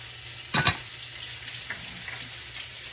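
Continuous crackling sizzle of portobello mushrooms deep frying in hot oil, with a brief louder clatter early on, close by and steady throughout.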